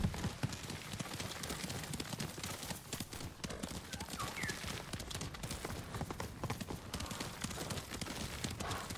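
Kage, a horse in Ghost of Tsushima, gallops with a rapid, steady clip-clop of hooves running the whole time, close and continuous, with a brief whinny partway through.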